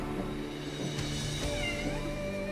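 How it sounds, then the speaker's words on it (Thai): A stray cat meows repeatedly and close by outside the front of a house, drawn-out plaintive calls over a faint background hum. "แล้วก็แมวจรเขาก็มา"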